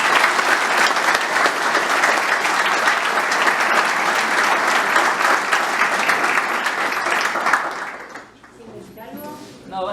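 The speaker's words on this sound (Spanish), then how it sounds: "Les damos un fuerte aplauso por eso" Loud, sustained applause from an audience at a documentary screening and debate, honoring the film's directors; thick clapping for about eight seconds before it quickly dies away, followed by brief talk.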